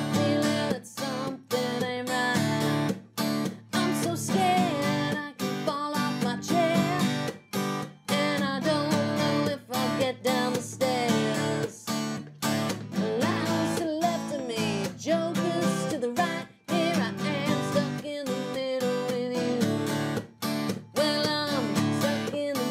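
Acoustic guitar plays a song verse with percussive strumming: dense, rhythmic strums punctuated by sharp muted slaps, close and continuous with no voice.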